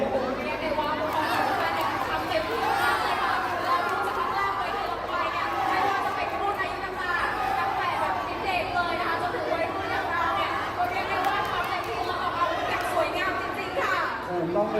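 Crowd at a competition cheering and chattering steadily, a dense wash of many voices holding at an even level without pause, with someone talking over it throughout.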